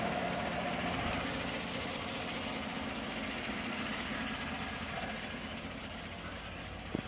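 A 2015 Chevrolet Silverado truck engine idles steadily with its thermostat just opening, giving a continuous low rumble with a faint hum, fairly quiet and unchanging throughout.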